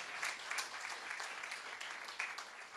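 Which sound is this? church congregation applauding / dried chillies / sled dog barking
church congregation applauding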